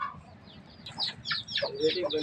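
Fighting roosters for sale cluck in short bursts on a farm, the calls close and fairly loud over a low rumble of background noise, with someone talking under them.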